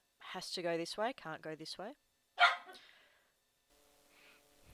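A pet dog named Rex barks once, sharp and close, right after a stretch of indoor speech, then a faint hum trails off.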